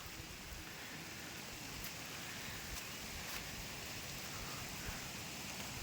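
Steady monsoon rain falls on a mountain trek in the Konkan region, a constant soft hiss of drops with no voices, even and unbroken throughout.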